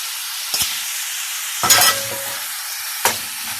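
Onion and meat frying in a pan, a steady loud sizzle throughout, broken by a few sharp clatters and scrapes of stirring, close and with no voices.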